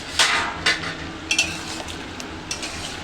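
Mutton pieces being stir-fried in a pan for a curry, with a soft background sizzle under several sharp scraping clinks of a spatula against the metal at an irregular rhythm.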